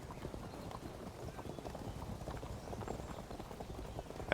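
Cavalry horses gallop in the strategy game Fields of Glory: Kingdoms, a steady dense rumble of many hooves clip-clopping together, faint and continuous throughout.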